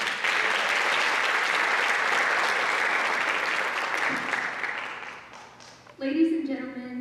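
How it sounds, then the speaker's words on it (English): Loud audience applause fills a high school auditorium at a Black History Month program, steady and dense for about five seconds before fading, followed by a voice speaking. "Give her a round of applause for me today."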